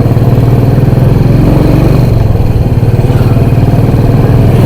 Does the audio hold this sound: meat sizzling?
no